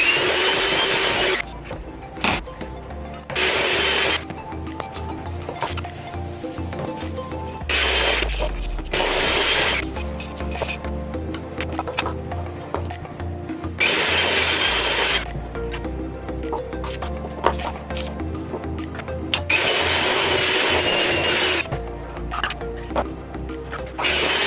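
An electric mixer runs in repeated bursts through cake batter as a powder mixture and sour cream are added for a cinnamon swirl bundt coffee cake, whirring steadily with brief pauses and occasional knocks against the bowl.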